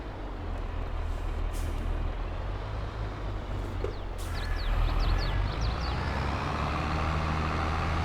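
A truck pulling a trailer uphill in Farming Simulator 22, a steady low engine drone that swells a little louder about halfway through, with a short air-brake hiss and no voices.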